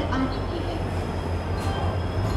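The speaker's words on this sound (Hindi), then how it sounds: "Agra fort Ajmer intercity express आ चुकी है यहाँ पे" The Agra Fort Ajmer Intercity Express, an LHB-coach train, rolling into a station platform with a steady close rumble, faint wheel squeal and a low drone throughout.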